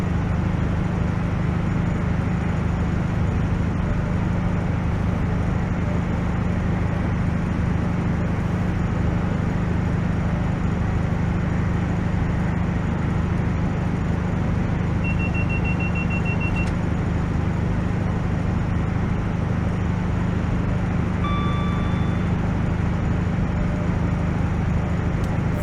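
An EMT Class 43 HST runs at almost 120 mph on the Midland Main Line in Train Sim World. A loud, steady, unbroken rumble of rolling wheels and engine lasts throughout, with a faint brief whine midway.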